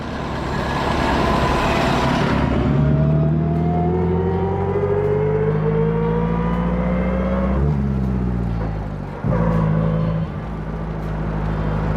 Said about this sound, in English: I love the sound of that engine though.